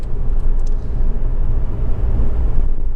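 A Honda Civic 2.2 i-CTDi diesel engine running, a steady, smooth low rumble held close and constant without speech.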